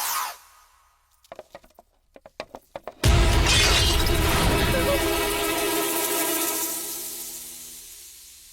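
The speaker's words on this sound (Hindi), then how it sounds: "भैया, फ्रेम टूट गया।" A picture frame drops and smashes at home: scattered small knocks and taps come first, then a loud sudden shatter of breaking glass that slowly fades over several seconds.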